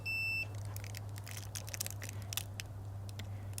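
A multimeter testing continuity on a GM 6.5L diesel block coolant heater cord plug gives one short, steady electronic beep up front, followed by quiet handling clicks over a low electrical hum.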